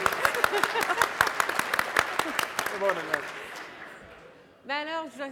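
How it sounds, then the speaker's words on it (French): A panel-discussion audience gives a burst of applause, with dense claps for about three seconds that thin out and fade before a voice speaks alone. "Je pense qu'elle mérite une bonne main d'applaudissement."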